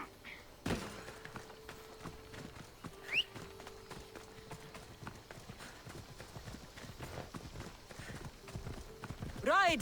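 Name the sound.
horse hoofbeats as rider summons horse Phobos, from video game Assassin's Creed Odyssey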